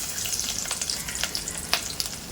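Cumin seeds and garlic fry in a hot pan, giving a steady soft sizzle with scattered crackles and pops, fairly quiet and with no talking.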